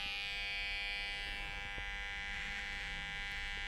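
An electric hair clipper with a guard trims a full, thick beard along the cheek, producing a steady, close buzzing hum that runs unbroken throughout.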